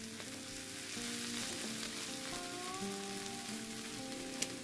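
Egg puff filling fries in oil as it is stirred, a steady soft sizzle running throughout with faint background tones and a single sharp tap near the end.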